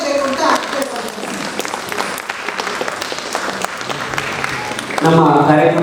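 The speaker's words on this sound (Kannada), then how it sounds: "ಈಗ ಸಭಿಕರೆಲ್ಲ ಅವರನ್ನು ಚಪ್ಪಾಳೆ ತಟ್ಟುವ ಮೂಲಕ ನೀವೆಲ್ಲರೂ ಪ್ರೋತ್ಸಾಹಿಸಬೇಕು ಅಂತ ಕೇಳ್ಕೊಳ್ತೇನೆ" Audience applause fills an award ceremony hall, a steady loud wash of many hands clapping that continues throughout, with a brief voice rising near the end.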